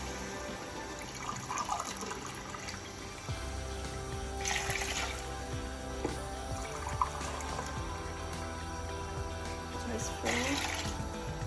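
Glasses of water pour into a cooking pot of rice and meat for Afghan Kabuli pulao, a steady splashing and running-water sound at moderate loudness.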